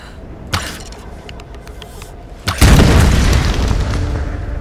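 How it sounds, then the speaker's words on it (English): A sharp boom followed by a sustained, heavy rumbling blast that fills the scene, after a smaller pop just before it; loud and close. A mine explodes after being shot with arrows in the video game Tomb Raider. "I wonder if shooting arrows at the mine will make it explode"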